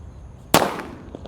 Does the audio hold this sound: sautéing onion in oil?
no